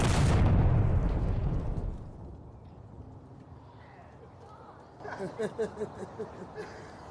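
A gun from Lemmy Kilmister's weapon collection fires one loud, close shot at the start, and its rumble fades over a couple of seconds. Voices talk afterward.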